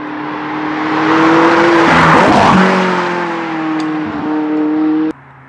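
A McLaren 675LT Spider sports car drives past close by, its engine roaring louder as it approaches, shifting pitch with gear changes, then cutting off abruptly as it goes by.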